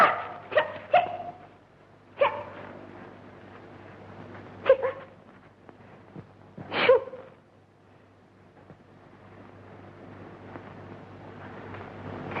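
A dog in a scene from the Tamil film Nizhal Nijamagiradhu gives several short, sharp barks and yips spaced a few seconds apart, fairly close and loud against a quiet background, with no talking.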